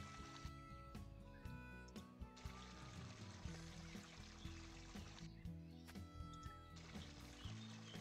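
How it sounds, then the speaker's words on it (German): Watering crops with a watering can in the Harvest Days farming video game, faint trickling and pouring water in several short bursts, mixed with soft background game music and no talking. "So, dann gießen wir noch wieder schön"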